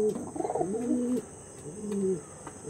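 A Nildama pigeon, a fancy breed, coos softly two or three times with rolling, throaty notes, fairly close and quiet, with no one talking.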